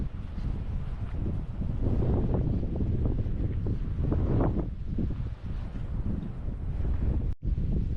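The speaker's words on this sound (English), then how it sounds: "As you can tell, it's a very windy day." Strong gusting wind buffets the microphone at a beach at Burnett Heads, Bundaberg, on a wet, windy morning, a loud continuous roar with no talk over it.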